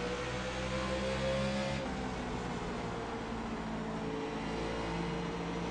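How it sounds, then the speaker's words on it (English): A NASCAR Nationwide race car engine roars beside the player in the iRacing game at Bristol, a steady loud engine drone that shifts pitch midway, with no voices. "You can hear that car to my left,"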